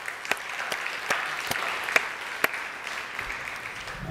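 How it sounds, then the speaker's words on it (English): Applause from an audience at a school academic awards ceremony, a steady bed of clapping in a large room, punctuated by a few sharp, distinct claps close by. "So another round of applause."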